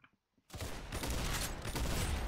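Gunfire in the Roblox game Arsenal, a loud dense burst of shots that starts abruptly after a brief quiet moment and keeps going steadily to the end.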